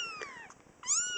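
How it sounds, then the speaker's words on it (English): A kitten meows twice, high and thin, with faint softer sounds between the calls; close and clear, no talking. "Meow, meow."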